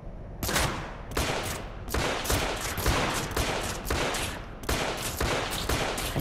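Rapid bursts of gunfire from the video game The Order: 1886 sound in repeated volleys, loud and close, with short gaps between the salvos.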